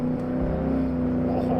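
A 1956 Gasmea race car in the Automation car game on the Road Atlanta track, its engine holding a steady, strained drone at high revs, close and loud, with no talking.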